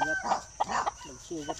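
A rooster on a farm lets out short crowing and clucking calls, close by, over a low background.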